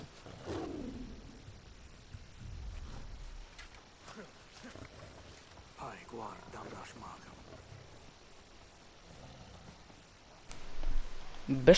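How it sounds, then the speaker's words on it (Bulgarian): A lion in the game Far Cry Primal gives low, rough roars and growls at moderate volume, mixed with game effects, while a person talks over it. "Без коментар този лъв, колко е тъп."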